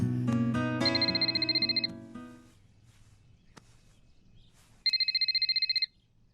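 A mobile phone rings with an electronic trilling tone in two bursts, the first over a loud musical passage and the second alone after a short quiet gap.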